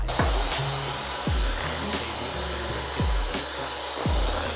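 An electric hand beater whirs steadily while whisking batter for baking at home, a continuous motorized drone with periodic knocks as the beaters strike the bowl roughly once a second, loud and close.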